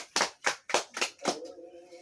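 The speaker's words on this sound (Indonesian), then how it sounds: "Kita berikan tepuk tangan untuk anak Lydia." A classroom of children gives a student a brief round of applause, five sharp clapping bursts in quick succession, fairly close, then fading into a low hum.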